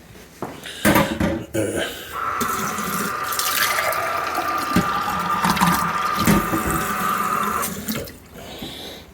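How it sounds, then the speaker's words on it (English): A Melitta Latticia OT 600 series coffee machine dispenses water into a glass, a steady close stream running for about six seconds with clicks and handling noises at the start and end. "So let's just get a glass of water in here."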